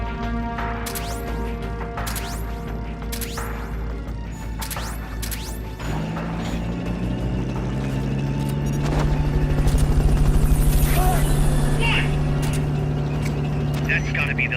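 A Fulton recovery helicopter's rotor thrum swells steadily in the Metal Gear Solid Peace Walker game, mixed with sharp impacts, mechanical clatter and dramatic score, growing louder toward the middle.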